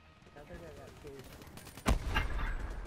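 Gunfire in the Call of Duty: Black Ops III video game, a sharp loud shot followed by a burst of rapid firing, with players talking faintly beforehand.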